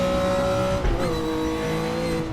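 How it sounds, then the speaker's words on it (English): Straight-cut gear whine from a race car in the RaceRoom racing game, a steady high-pitched tonal whine riding over a loud engine drone, with a slight dip in pitch midway through the clip. "The gear whine, the straight cut gear whine in here, it sounds awesome."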